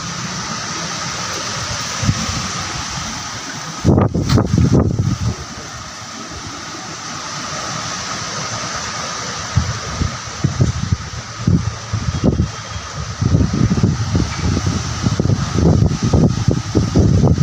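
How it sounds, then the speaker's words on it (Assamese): Strong wind during Cyclone Remal roars loudly and continuously, with heavy gusts and rustling bursts rising and falling across the stretch, no voices heard. "আজি এনেকুৱা বতাহ দিছে যে বাহিৰত ওলাবলৈ মানুহ ভয়"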